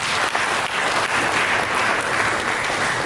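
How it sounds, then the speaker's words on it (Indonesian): A congregation at a church service claps together in sustained, dense applause that stays loud and even throughout. "Mari kita bikin tepuk tangan."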